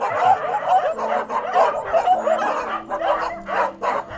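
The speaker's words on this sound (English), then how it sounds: "So these dogs here are bred also by the farmers and are sold on." A group of farm-bred dogs at a dog breeding facility on a small pig farm keep up steady, overlapping barks and yips close by.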